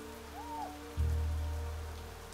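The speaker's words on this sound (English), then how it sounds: "Well, there's rain" Steady rain falls in the world of Niche, a broad hiss that swells suddenly and then slowly fades, with no talking over it.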